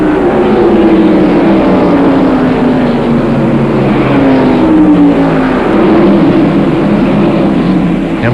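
Stock cars race at North Wilkesboro in 1995, with loud, close engines roaring continuously and their pitch sliding as the cars pass. The sound stays dense and sustained throughout.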